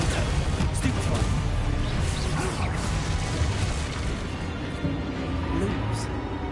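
A Confringo blast spell from the video game Hogwarts Legacy, a loud crashing explosion with whooshing bursts in a dense, continuous game soundscape, with a voice speaking over it.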